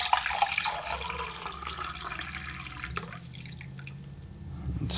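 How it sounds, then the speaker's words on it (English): Water poured by hand into a pot sitting on a scale on a workbench, a close splashing trickle that starts bright and settles into a softer steady flow. "I got some water here. I'm just gonna pour it in."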